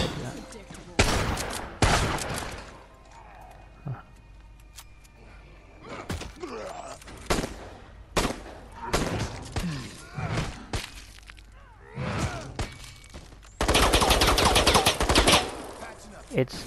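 Video game gunfire in irregular loud bursts, some rapid and automatic, spread across quieter moments, while players talk in between.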